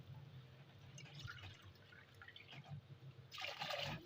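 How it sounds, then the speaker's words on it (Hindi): Water is poured into a pot of rice for matar pulao, a soft trickling and splashing that comes in patchy bursts and ends with a brighter gush, faint and close in a quiet kitchen. "अब हम इसके अंदर जो है वो पानी शामिल करेंगे।"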